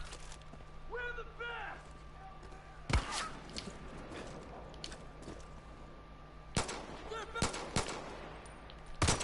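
Gunfire in the Far Cry 5 arcade time trial: several sharp shots crack out at intervals, a pair of close bursts near the end, over faint game ambience, with a voice talking briefly early on.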